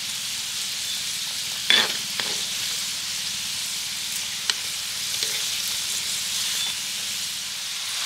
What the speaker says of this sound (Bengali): পিঠেগুলোকে এইভাবে উল্টে দিতে হবে, আর উল্টে পাল্টে সুন্দর রং করে এগুলোকে ভেজে নিতে হবে।